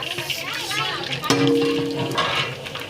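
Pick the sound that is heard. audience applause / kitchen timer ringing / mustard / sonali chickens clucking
mustard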